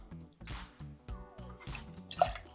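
Fresh grapefruit juice is poured into a cocktail tin in short glugging, splashing bursts, quiet and close.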